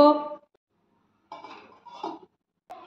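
A lid clinks down onto a pan of tomato fish curry on a gas stove: one short metallic clatter, then brief quiet before a voice speaks in the kitchen.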